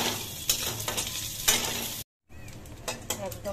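Dried fish (shutki) frying in hot oil, a close, steady sizzle with sharp crackling pops, briefly cut off by a moment of silence before the frying resumes.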